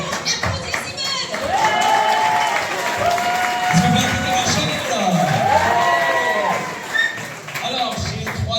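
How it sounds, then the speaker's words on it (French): A church congregation in Marseille applauds Simone during Sunday service, clapping steadily for several seconds alongside cheering and scattered shouts, with voices calling out over the sustained applause. "Est-ce qu'on peut applaudir Simone?"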